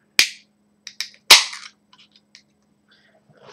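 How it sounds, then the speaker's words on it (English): A bottle of Jailbreak Brewing beer being opened, giving two sharp pops or cracks close up followed by a few light clinks and fizzy ticks. "I'm going to go ahead and I'm going to open this up"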